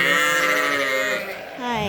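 Sheep and lambs bleating on a farm, with loud, close, wavering cries that overlap and run nearly continuously, dipping briefly before another bleat rises.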